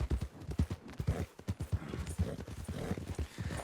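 Horse hooves clip-clop at a steady walking rhythm while a rider travels in the video game Red Dead Redemption 2, the footfalls close and clear over a low outdoor ambience.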